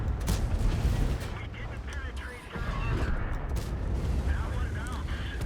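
A tank's cannon fires in the World of Tanks video game, a booming shot within dense, continuous rumbling battle audio that dips briefly near the middle.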